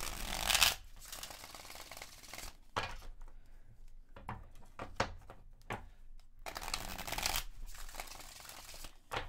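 Tarot cards being shuffled by hand, heard as repeated close crisp riffles and shuffling bursts with brief quiet pauses between them.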